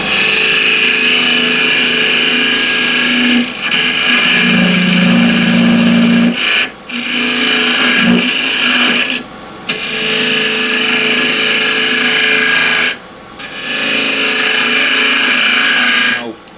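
Wood lathe hollowing the bottom of a walnut spatula pot, a loud steady scraping and whirring of the tool against spinning wood, broken by several short pauses where the cutting stops before resuming.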